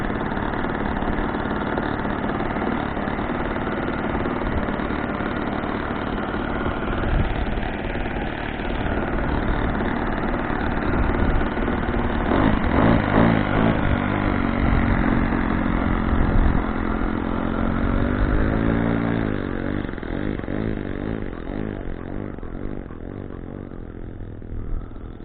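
A 4-Star 40 RC model airplane's glow engine runs steadily and loudly close by, holding a constant buzzing drone with slight pitch wavering throughout and no talk over it.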